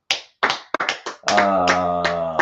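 A group claps at a gathering: a handful of sharp, separate claps come first, then a steady tonal sound takes over and continues loudly to the end.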